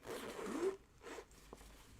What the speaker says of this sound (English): So it's got this beautiful brass zipper on it.